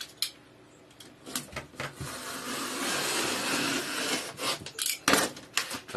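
A blade slices through leftover foam along a straight edge on a homemade RC airplane wing, close rasping and scraping strokes with a longer drawn cut in the middle and brief knocks around it.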